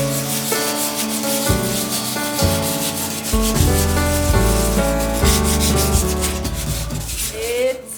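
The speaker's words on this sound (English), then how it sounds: "Once it dried, we sanded it down and then painted it black." A wooden IKEA bookcase being sanded after wood filler dried: a steady, loud scratchy rubbing that runs throughout, over a tonal, music-like background.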